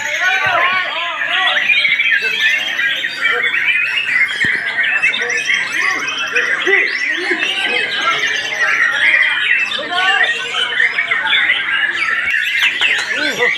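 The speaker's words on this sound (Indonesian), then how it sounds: "Peserta Murai Batu Tata" Bright, busy birdsong fills the air nonstop at a songbird contest, with overlapping whistles and chirps from several white-rumped shamas at once, loud and close.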